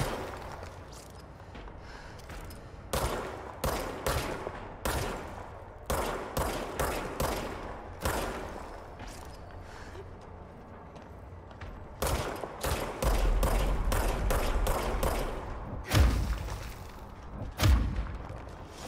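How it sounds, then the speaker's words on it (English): Enemies return fire in the video game Control, with repeated bursts of gunshots and heavy thuds arriving in clusters, fairly loud, with short gaps between volleys. "Okay, now we have people shooting back"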